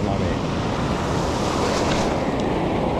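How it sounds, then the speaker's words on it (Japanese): Strong summer surf pounds a beach during shore jigging, a dense, continuous roar of breaking waves with heavy wind buffeting the microphone throughout. "すごいよこれ波"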